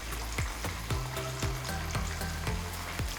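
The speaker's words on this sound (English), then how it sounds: "Once the other side has fried for about 3 minutes" Chicken pieces for Japanese karaage sizzle as they fry in hot oil, a dense continuous crackle with irregular popping spits, loud and close, no talking.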